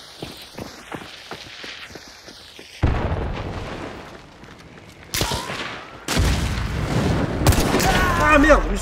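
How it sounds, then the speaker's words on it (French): A grenade goes off in Hunt Showdown 1896, with several loud booms and blasts in a match alongside footsteps and scattered shots. "Lance une grenade."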